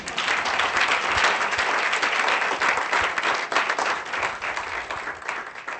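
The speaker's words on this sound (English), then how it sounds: "I wasn't hearing the applause because I was walking." An audience at a 2016 graduation ceremony claps loudly and continuously, a thick wash of many hands that stays strong and steady from start to finish.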